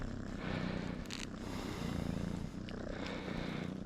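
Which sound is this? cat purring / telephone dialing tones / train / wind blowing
cat purring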